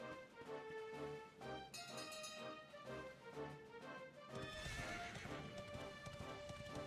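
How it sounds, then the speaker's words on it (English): A horse gallops in Dragon Quest 11, rhythmic clip-clop hoofbeats layered with a whinny under game music, fairly quiet and continuous with no voices. "Here I am running on foot when we have a horse."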